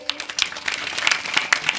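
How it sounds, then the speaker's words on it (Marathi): A crowd at a kirtan gathering claps in scattered, overlapping bursts, moderately loud and continuous through the short moment. "परत एकदा सर्वांनी जोरात टाळी वाजवायची."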